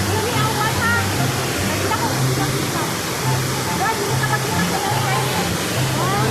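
Waterfall at Sinababuan park pouring continuously, a loud broad rushing roar of falling water close by, steady throughout with a faint low hum beneath.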